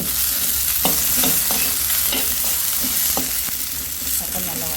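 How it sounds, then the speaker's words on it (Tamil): Chopped tomatoes sauté in a pan for spicy amla chutney, a steady close sizzle punctuated by several sharp scrapes and clicks of a spoon stirring against the pan, with no talking. "தக்காளி சேர்த்து நல்லா வதக்கி விட்டுலாம்."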